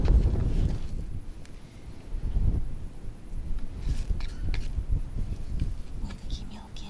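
Wind buffets the microphone with a low, gusty rumble in a vegetable garden in southern Russia, while someone speaks quietly close by and a few light taps and rustles come through.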